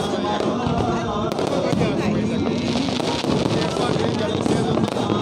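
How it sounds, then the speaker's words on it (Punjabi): Fireworks burst continuously at a Harmandir Sahib celebration marking the 400th Prakash Purab, a dense, loud crackle and rumble of explosions with a crowd and voices talking underneath throughout. "ਇਸ ਆਤਿਸ਼ਬਾਜ਼ੀ ਬਾਰੇ ਕੀ ਕਹਿਣਾ ਚਾਹੋਗੇ? ਕਿੱਦਾਂ ਦੀ ਲੱਗੀ ਆਤਿਸ਼ਬਾਜ਼ੀ?"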